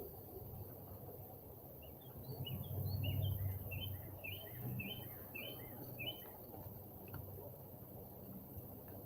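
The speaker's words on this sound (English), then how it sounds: "Y'all hear them birds?" A bird sings a quick series of bright chirps in the distance, over a low steady background rumble.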